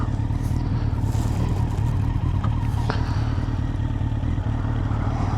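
Honda CBR954RR Fireblade motorcycle ridden along a rough green lane, engine droning loud and steady throughout, with brief clatters from the bumpy track.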